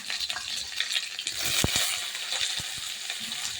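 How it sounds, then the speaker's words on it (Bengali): Potatoes sizzle in hot oil in a pan, the first step of a bitter gourd curry with small fish. A steady hiss is broken by a few low knocks as they are stirred. "আগে আমি আলুগুলোকে একটু ভেজে নেব"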